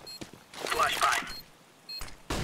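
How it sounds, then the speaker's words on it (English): A flashbang grenade goes off in a CS:GO match. It gives one sharp, hissing burst that lasts about a second, framed by brief clicks and game tones, then settles before short noisy bursts near the end. "Flashbang."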